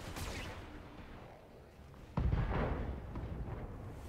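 Weapon fire from BattleTech mech combat booms in rolling bursts, a lighter salvo at first and then a sudden heavy blast that trails off in rumbling impacts.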